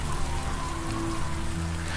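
Rain falls steadily on a field, a dense continuous patter with a faint low hum beneath, moderately loud and without voices.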